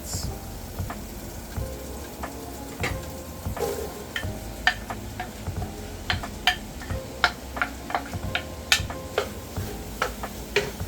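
Chicken frying in a skillet with melted butter and a little olive oil, a steady low sizzle with sharp spattering pops and ticks that grow more frequent toward the end, close up and with no talking.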